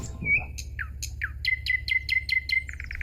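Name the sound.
goldfinch singing in a garden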